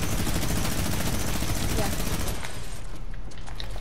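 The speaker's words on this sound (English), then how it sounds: "Oh no, this man has a minigun." A video game minigun fires as a dense, continuous rapid buzz of shots, loud and close, easing slightly toward the end, with people talking over it.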